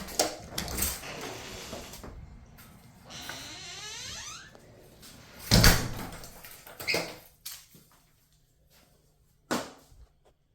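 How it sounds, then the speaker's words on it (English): A door in a house leading outside is opened and closed, giving a few loud, sharp thumps and clatters with quiet gaps between them and no talking over them. "There's the door to go outside."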